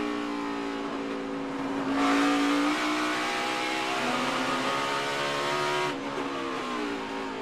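A NASCAR Cup Series race car engine screams at high revs, dropping briefly and climbing again as it shifts up through second and third gears on a road course, loud and close throughout.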